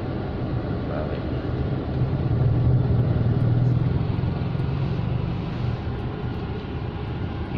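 A motor tricycle engine runs with a steady, fairly loud low rumble and slight swelling as the gas is worked.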